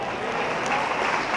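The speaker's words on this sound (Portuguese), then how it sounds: "Você pode aplaudir ao Senhor." A church congregation claps together in a brief, dense burst of applause that stays even and moderately loud throughout.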